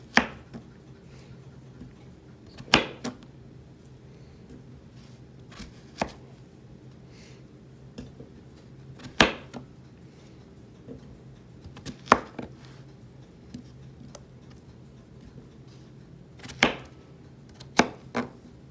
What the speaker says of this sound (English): You don't want to chop your vegetables too small, because they're going to cook all day